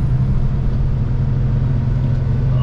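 An empty semi truck's engine labors uphill in a steady, heavy low rumble, loud and close from the cab, with no talking.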